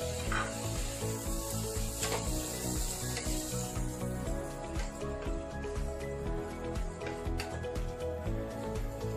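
Asparagus stir-frying with butter and shrimps in a pan sizzles steadily and close, with scraping and stirring strokes of a utensil against the pan running throughout.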